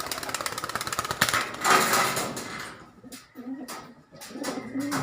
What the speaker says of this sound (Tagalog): Alpamor line kagwapo paparundahin ko mga kalapatids oh